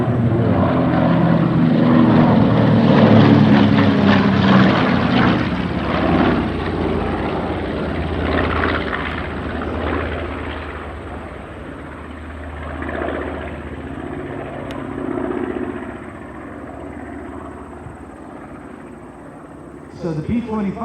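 A warbird propeller plane flying at an air show, its engine drone and propeller buzz loud and up close at first, then easing as it passes, with a commentator's voice over a loudspeaker throughout.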